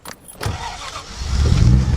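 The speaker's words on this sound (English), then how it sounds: "The car always starts very nicely, very easily." A 1962 Austin-Healey 3000 cranks over briefly after a small click, then catches and settles into a loud, steady idle close to the microphone.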